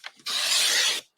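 Cardstock sliced along a paper trimmer for a handmade card, one smooth, close scraping stroke lasting under a second, with a faint tap before it.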